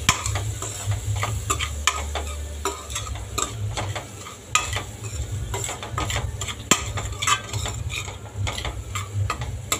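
A spoon stirs a salted prawn curry mixture (kolambi rasa) in a pan, making repeated scraping, clinking strokes over a steady low sizzle and hum, close and fairly loud throughout.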